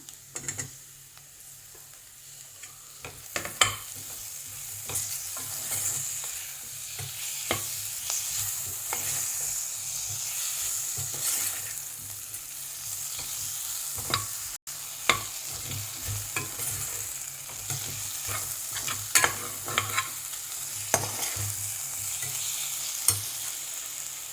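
Tomatoes for a capsicum potato masala frying in a pan and stirred steadily, a continuous hiss with frequent spatula scrapes and clinks against the metal, close and clear, no voices.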